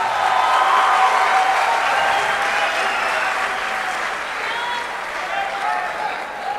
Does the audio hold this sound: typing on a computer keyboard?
no